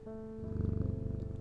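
In the video game Strange Antiquities, a petted cat purrs in a soft, close, rhythmic rumble with a steady pulsing pattern that lasts for just over a second, with no voices.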